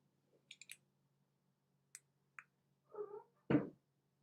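A cat meows softly and chirps near the microphone, a few brief scattered calls ending in a louder, drawn-out meow, over quiet room hum.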